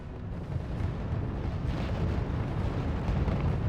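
Artillery tanks firing in the RUSE strategy game, producing a continuous rumble of distant booms and bursts that blend into a steady low roar.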